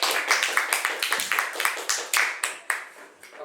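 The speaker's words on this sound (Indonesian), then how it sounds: "Beri aplaus untuk kelompok yang kedua." A group claps for the second team of presenters in a classroom session on Hooke's law, producing a brisk run of sharp, irregular hand claps that thin out and fade toward the end.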